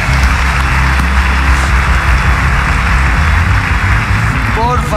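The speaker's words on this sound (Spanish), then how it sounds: "Hay un aplauso para el man" Audience applause on a live talk show, a loud, sustained wash of clapping from a crowd that keeps going without a break.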